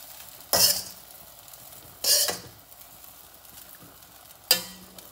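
Garlic rice with chili flakes is stirred in a pan in three distinct scraping bursts, each a sharp, close swish of spatula against metal, with a quiet low sizzle between them.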